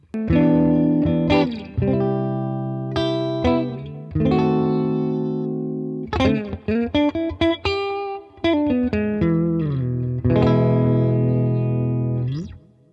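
Electric guitar with single-coil pickups played through an AmpliTube 5 amp simulation, thick and sustained with chorus and reverb, mixing ringing chords with quick picked note runs and short pauses, loud and close.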